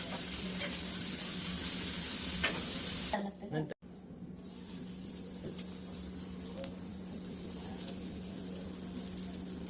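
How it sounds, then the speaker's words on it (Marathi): Butter sizzles in a hot pan with a bright, steady hiss that cuts off abruptly, then a quieter low frying crackle continues. "हे बटर आपण आता या पॅनवर टाकून घेऊया."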